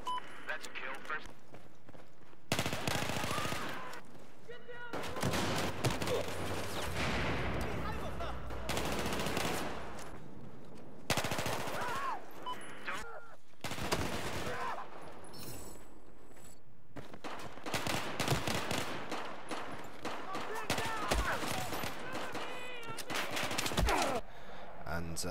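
Rapid bursts of automatic fire from a G18 pistol in Battlefield 4, short loud volleys repeated across the clip with brief gaps, close and sharp, with someone talking between and over the shots.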